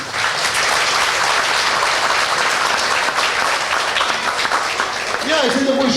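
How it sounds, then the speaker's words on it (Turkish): Audience applause fills a sports hall at the launch of a municipal handball program, dense, steady clapping throughout, with a brief voice surfacing near the end. "Kendinizi bir alkışlar mısınız?"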